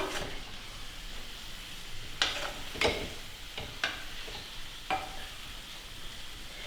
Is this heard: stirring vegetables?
yes